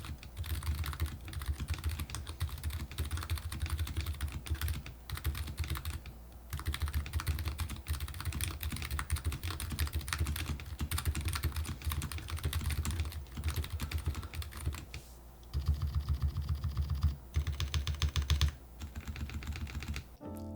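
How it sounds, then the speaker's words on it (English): Steady, fast typing on a keyboard fitted with Hall effect switches, a continuous stream of clicky keystrokes with a few brief pauses, close and fairly loud, no voices. "here is how they sound in a keyboard"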